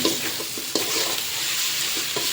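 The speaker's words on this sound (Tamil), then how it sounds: "நல்லா இதை நல்லா வதக்கிக்கணும் சரிங்களா" Grated radish sautéing in a pan for a dried-fish (karuvaatu) curry, with a steady bright sizzle of frying and several sharp scrapes and clacks as a utensil stirs, close and continuous with no voices.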